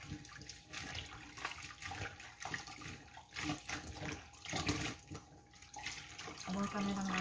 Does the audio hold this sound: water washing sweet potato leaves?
yes